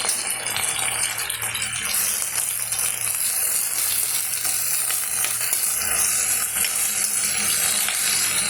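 Chopped ivy gourd and mango sautéing in a hot pan give a steady, close sizzle with faint stirring rattles, continuous and even throughout with no talking.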